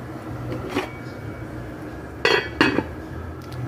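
A metal lid settles onto a cooking pot of beef and sauce, giving a few sharp clinks and clatters over a low kitchen background hum.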